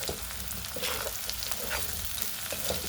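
Curd chillies stirred and frying in an oily pan, giving a steady dense sizzle with soft scraping strokes of the spoon throughout, close and continuous with no talking.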